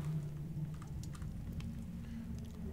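Faint, steady rain patters in The Solus Project, with scattered soft drops ticking over a low rumbling backdrop; no distinct thunderclap stands out.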